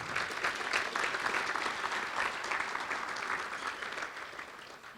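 An audience applauds committee members at an agricultural hall of fame evening, sustained and even clapping from many hands that tapers off toward the end.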